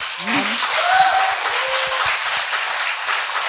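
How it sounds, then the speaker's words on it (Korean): A crowd claps in sustained, dense applause at a steady level. A brief voice sounds at the start. "박수"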